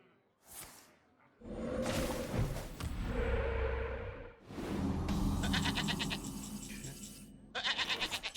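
A goat bleats in the Hearthstone card game, a bright repeated cry rising over busy game effects, whooshes and thuds, ending in a quick run of pulsing tones.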